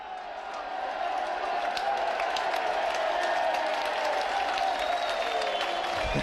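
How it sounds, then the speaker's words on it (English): A steady roar of Bradford Bulls fans cheering and applauding fills a rugby league stadium against Widnes in 2005, a broad, sustained crowd noise at moderate distance with no clear individual voices. "the biggest cheer of the afternoon from the Bulls fans is ironic"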